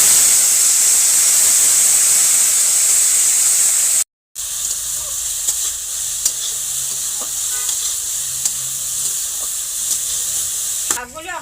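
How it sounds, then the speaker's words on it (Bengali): Lentils (dal) dropped into a hot pan of oil with dried chilies and bay leaf sizzle loudly, then after a brief break a softer steady frying hiss continues with light stirring clinks. "ডালটা দিয়ে রাখছি, এখন আমি কড়াইতে ডালটা দিয়ে দিই"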